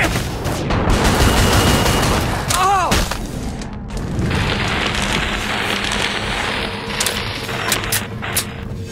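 Rapid .50 caliber gunfire in the zombie shooter Killing Floor 2, heavy sustained bursts with mechanical clatter, explosions and game effects layered over it, loud and continuous throughout.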